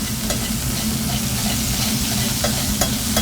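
Scallops sizzle loudly in hot butter in a pan, a dense and continuous crackle close up, with occasional spoon taps while the butter is basted over them. No one speaks.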